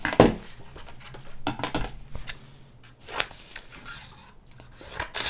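Scissors cut squares and rectangles from paper for a Kente paper art project, giving several crisp snips and paper rustles close by, spaced irregularly with brief quiet gaps between them.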